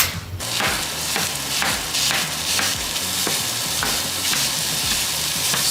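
Ground beef drops into a hot pan of caramelized onions, garlic, black pepper and olive oil. It sizzles loudly and steadily, with repeated scraping stirs at a regular rhythm.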